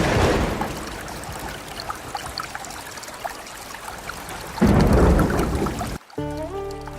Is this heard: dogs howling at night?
no